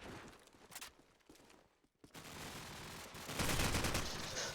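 Gunfire in the video game Call of Duty 4 comes as short bursts of shots, then a brief pause and a louder, sustained barrage toward the end, sounding fairly distant.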